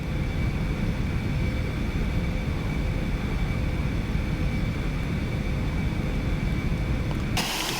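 The simulated Aerobask Eclipse 550NG jet drones steadily in flight in a video game, a loud even rush of engine and air noise that holds without pause until it cuts off abruptly near the end.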